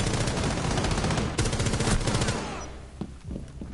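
Video game gunfire crackles in fast continuous bursts for about two and a half seconds, then thins into a few scattered, quieter shots as the barrage fades out.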